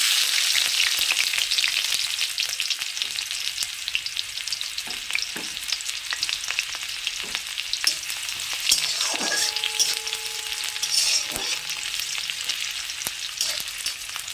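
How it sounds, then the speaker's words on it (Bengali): Chopped onion sizzles in hot oil over a cumin and chilli tempering, a constant crackling fry with occasional scrapes and taps of a stirring spatula. "ফোড়নটা আমার ভাজা হয়ে গেছে, লাল হয়ে। ওর মধ্যে পেঁয়াজ কুচি দিয়ে দেব।"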